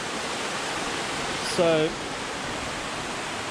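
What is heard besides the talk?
flowing water at the 22 Waterfalls campsite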